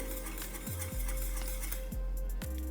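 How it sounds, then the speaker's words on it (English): Cocoa tea is whisked in a pot, a soft metallic stirring with occasional clinks at close range, quiet and steady with no talking. "I'm just going to whisk this around a bit more"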